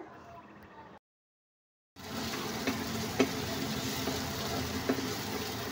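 Fish curry with salt and turmeric being stirred in hot oil in a pan, a faint sizzle with light scraping strokes and occasional clicks, starting after a brief silent gap.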